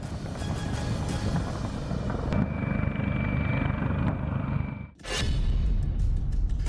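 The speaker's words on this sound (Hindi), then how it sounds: "कमो 52 एक अटैक हेलीकॉप्टर है।" A Kamov Ka-52 attack helicopter flies past with a steady, loud rotor and engine roar that drops off briefly near the end and then returns at full strength.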